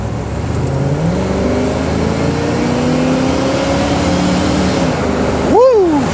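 A 1969 Chevrolet Corvette coupe revs hard under acceleration, its engine note climbing steadily through the gears with a rising pitch, loud and close throughout, ending with a brief sharp sweep near the end.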